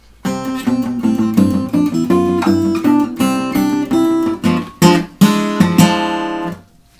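Guitar playing an arrangement of an instrumental piece at full tempo, a busy stream of plucked chords and melody notes, loud and close, with no talking over it.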